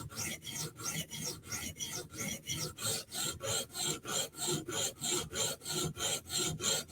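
A REX 121 steel Spyderco Sage blade is drawn across a sharpening stone in steady, rhythmic rasping strokes, about three per second, close and even with no talk.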